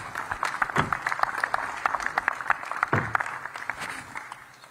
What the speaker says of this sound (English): Have a round of applause for our 250 contenders.